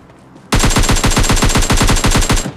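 AKM rifle fire in the PUBG Mobile Lite shooter game: a loud, rapid automatic burst of roughly twenty evenly spaced shots lasting about two seconds, close and heard alone.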